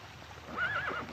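A horse whinnies once, a brief rising and falling neigh lasting about half a second, moderately loud over a quiet background.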